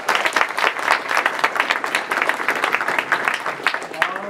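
An audience at a minute-pitch innovation challenge show gives the presenters a round of applause, lively uneven clapping with rhythmic peaks lasting about four seconds and faint crowd murmur beneath.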